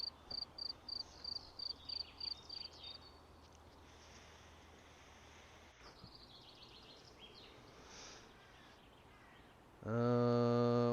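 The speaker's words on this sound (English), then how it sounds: "Let's try and get this cricket." In a video game, a cricket gives a quick series of evenly spaced high chirps over a steady ambient background. The chirps fade after a few seconds, and a loud sustained tone rises near the end.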